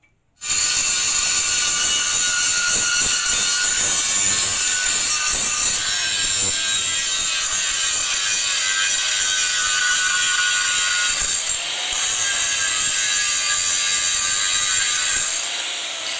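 An angle grinder grinds and cuts the axle housing sleeve on a Mitsubishi Canter truck, a loud continuous metallic screech that starts abruptly and runs almost without a break, dipping for a moment near the end, with no talking.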